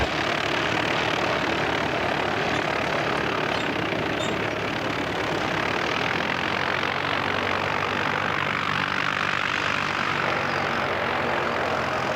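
An airliner departing Christchurch Airport in New Zealand roars steadily and loudly throughout. The broad engine rumble swells slightly toward the end, heard from outdoors near the runway with no voices.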